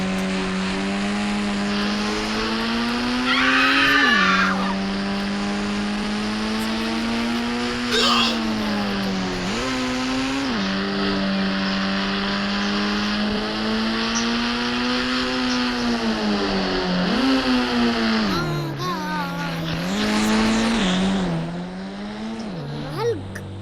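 A motorbike revving and racing along in Indian Bike Driving 3D, a continuous loud engine drone whose pitch rises and falls with each acceleration and gear shift, under a voice talking throughout.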